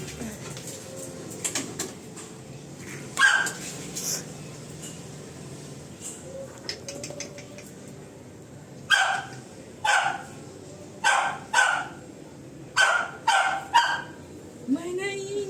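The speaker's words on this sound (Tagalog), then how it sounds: "May naiingit na aso." A small jealous dog barks in a home, yipping in short sharp bursts, first sparse and then in a rapid run of close, loud barks, with a person talking alongside.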